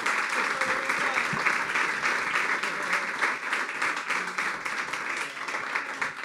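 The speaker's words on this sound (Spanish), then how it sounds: "Regálenme un aplauso para Lucas" A conference audience claps loudly and continuously, a thick wash of applause with a few faint voices mixed in beneath.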